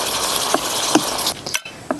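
A utensil stirs a sponge gourd and egg stir-fry in a pot over a steady sizzle, with a few soft scraping clinks at irregular intervals, close and fairly loud.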